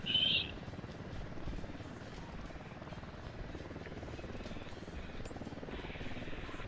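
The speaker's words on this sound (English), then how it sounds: "Oh, helicopter." Helicopter in the video game Ghost Recon Wildlands, a steady low rotor drone and rumble that holds at an even level throughout, with a brief higher tone at the start.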